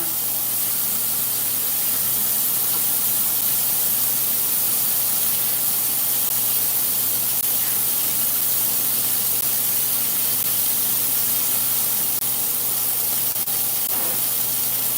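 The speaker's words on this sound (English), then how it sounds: "Let me wash my hands one more time." Steady rush of running water from a tap as hands are washed, a constant hiss that continues unbroken the whole time, close by with no talking.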